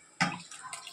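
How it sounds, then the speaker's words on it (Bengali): Soaked rice poured into a pot of boiling water for biryani, a sudden splashing rush followed by a softer continuing watery hiss, close and fairly quiet. "আমার জলটা ফুটে গেছে, আর আমি চালটা 1 ঘন্টা ভিজিয়ে রেখেছিলাম, তো এই চালগুলোই দিয়ে দিচ্ছি।"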